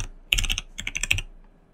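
Keys clatter on a computer keyboard during entry of a server name in Windows, two quick close bursts of crisp clicks separated by a brief gap, loud and alone.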